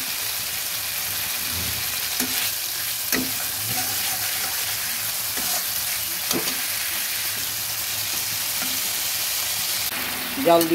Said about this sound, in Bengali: একটু জল দিয়ে আমি মশলাটাকে ভালোভাবে ভেজে নিচ্ছি।